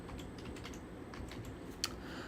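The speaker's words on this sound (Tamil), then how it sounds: "ஃபோட்டோ பூத் அப்படின்னு டைப் பண்ணிக்கிறேன்." Soft, quick keystrokes tap on a computer keyboard, faint and close, with a slightly louder clack near the end.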